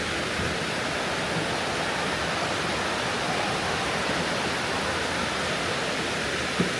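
A creek pours over cascades in a steady, dense rush of water, unbroken and fairly close throughout.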